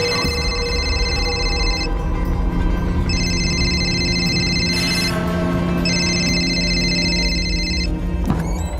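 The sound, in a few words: phone ringing unanswered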